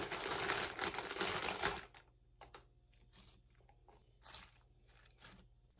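Spicy buffalo pork rinds tumble onto a tray of nachos topped with boiled egg and canned meat, making a close, dense crunchy rustle for about two seconds before it falls quiet apart from a few faint clicks.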